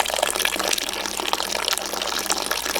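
Cold water pours steadily into a pot of grains outdoors, a continuous bright splashing gush that runs alone for the whole stretch with no talking.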